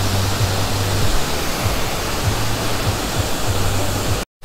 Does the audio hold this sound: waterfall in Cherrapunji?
yes